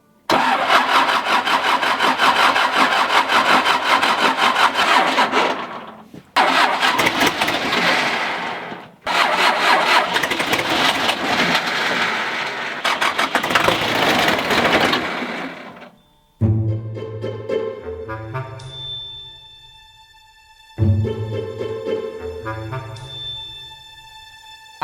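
A tractor engine cranks over and over, each loud grinding burst of the starter cutting off between tries, then shorter sputtering catches that nearly fire but die away for lack of fuel; close and loud, with no talk.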